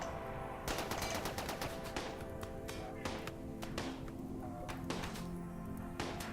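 Turret gunfire in a colony video game, rapid sharp cracks and bursts of shots repeating irregularly over a steady low background, fairly faint and at a distance.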